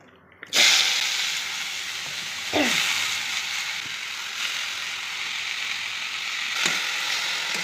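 Greens sizzle and fry in a hot pan while cooking foilfa greens with potatoes, a loud hissing sizzle bursting in as they hit the oil and continuing steadily, with a few clinks and spatula scrapes.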